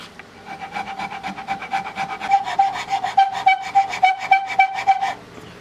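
A rasp or file works wood off a Turkish walnut gunstock for a Carl Stiegele 16-gauge shotgun, with quick, rhythmic scraping strokes that are close and grow louder before stopping.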